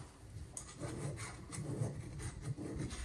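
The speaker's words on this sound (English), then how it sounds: "protect your handle and dress up your tool by just taking that burr off" Filing a casting burr off an old tool fitted with a hickory handle, a quiet steady rasping of repeated back-and-forth strokes, fairly close and alone with no talking.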